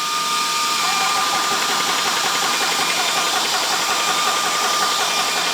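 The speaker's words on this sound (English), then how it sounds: "I'll fire the compressor up." A VEVOR 30MPa portable PCP air compressor runs steadily with a loud, continuous mechanical drone and hiss that holds evenly from start to finish, with no talk.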